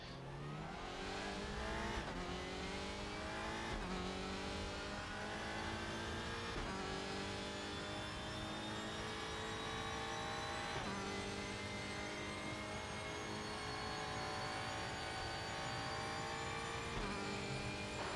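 A TCR touring race car in a racing video game, its engine droning loudly and continuously as it climbs through the revs with repeated upshifts and occasional tyre squeal, with no voices over it.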